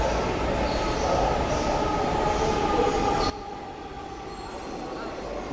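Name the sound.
metro train arriving at the platform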